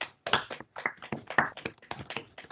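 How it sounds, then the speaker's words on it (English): A small group gives a brief round of applause at an informal awards segment, with a handful of close, uneven claps that fade within a couple of seconds. "Can we have a round of applause for Ross County?"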